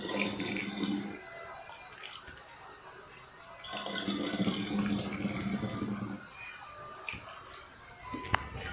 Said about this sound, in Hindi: सब बॉटल में भर देंगे जितना शरबत बनाया है।